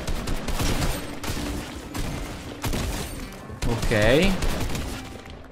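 Tactical shotgun fire in Fortnite mixed with other gunfire in a dense, continuous barrage, with a brief spoken word near the start.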